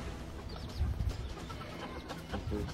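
Hens kept on a French farm, being tested as brooders for peacock eggs, cluck and murmur in a steady, busy stream of fowl sounds, with a few louder calls standing out near the middle and end.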